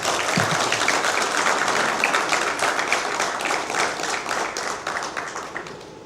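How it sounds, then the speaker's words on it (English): An audience at a company townhall event breaks into a dense round of applause that starts strong and gradually fades over several seconds, with no speech over it. "A huge round of applause for our CBO, Mr. Vikrant sir."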